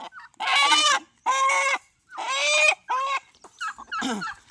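A crossbred country chicken rooster clucks and calls in several loud, close bursts with short pauses between them, ending in a rougher squawk.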